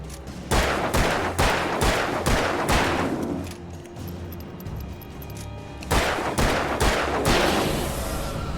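Gunfire in the Alan Wake video game: bursts of sharp, loud shots in quick succession, pausing for a few seconds of quieter rumbling before another rapid volley resumes, with no talking.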